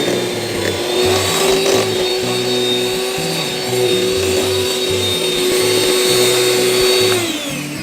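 An electric mixer beats cupcake batter in a large bowl. The steady, loud motor whine is broken by rhythmic clattering of the beaters against the bowl, and the pitch drops as it winds down at the end.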